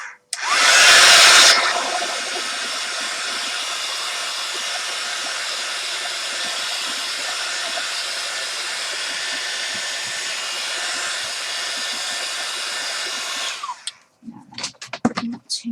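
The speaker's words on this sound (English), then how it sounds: "I'll just give it a blast with the heat gun" A heat gun blasts air over gesso on a mixed-media card, starting with a loud burst and then holding a steady, close, hair-dryer-like whir for about twelve seconds before cutting off, followed by brief handling clatter.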